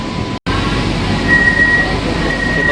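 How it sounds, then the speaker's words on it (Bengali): An AC local train pulls out of Chakdah station, heard from inside as a steady low rumble and hum with a faint high whine, continuous and fairly loud apart from a momentary dropout near the start. "এবার চাকদা থেকে ট্রেনটি ছেড়ে বেরোবে"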